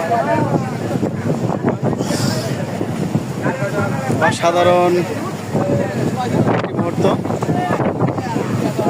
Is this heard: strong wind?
yes